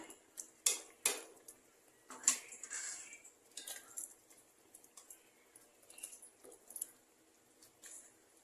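Fish pieces dropped into a pan of simmering curry, several soft wet plops and squishes followed by light clinks of a spoon against the metal pot, close and fairly quiet with no talk.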